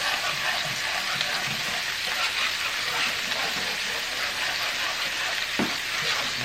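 Grits cooking in a pot hiss and bubble while a whisk scrapes and stirs along the bottom, a steady close textured churn with one brief louder knock.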